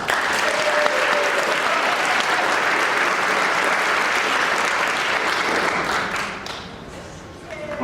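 Sustained applause from a concert audience at a Celtic summer pipe band concert, loud and dense throughout, tapering slightly near the end before picking back up.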